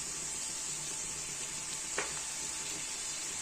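Mushrooms fry in a pan with chopped dried chili and soy sauce, giving a soft, steady sizzle with one brief tap partway through.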